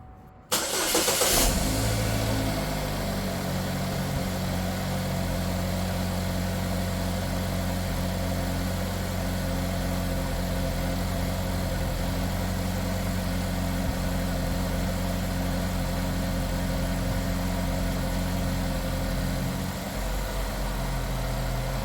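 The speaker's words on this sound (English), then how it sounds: "I'm going to fire this thing up" A 2013 Chevy Equinox engine cranks briefly and catches after a spark plug change, then settles into a steady, close, smooth idle with a low hum that runs unbroken for about twenty seconds.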